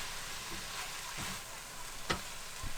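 Beef and broccoli fry in a pan, a soft steady sizzle with a few quiet scrapes and clinks as the food is stirred, faint and without talk.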